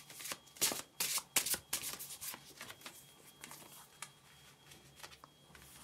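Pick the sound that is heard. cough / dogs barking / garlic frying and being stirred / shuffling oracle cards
shuffling oracle cards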